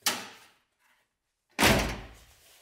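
A Volkswagen Caddy van door is shut twice in close succession, first a light thunk, then after a short silence a heavy, loud slam that rings out briefly, nearby with no talking.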